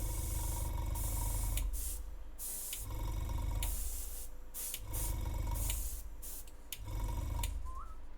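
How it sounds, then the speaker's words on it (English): An airbrush sprays paint onto Chronicles of Drunagor board game miniatures in repeated hissing bursts of about a second each, separated by short pauses, close up and with no speech. "Airbrushing board game models is just life-changing."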